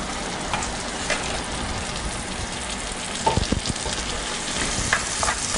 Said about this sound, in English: And I'll be stirring this frequently for 5 or 6 minutes until the mushrooms are all cooked through and the onions are soft and translucent.